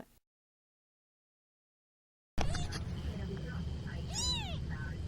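After a brief silence, a small cat gives a couple of high, rising-then-falling meows close by over a rumbly background.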